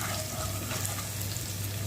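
Garlic frying in oil in a pan while chicken macaroni is being cooked gives a steady, close sizzle that hisses evenly throughout with no voices.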